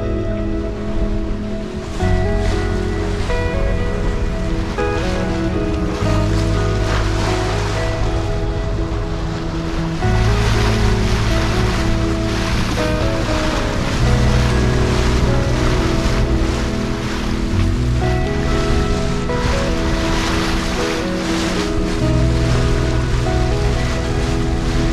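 A sailboat runs on a beam reach at about six and a half knots in a filled-in breeze, with continuous rushing water, waves against the hull and wind noise on the microphone, loud and steady throughout.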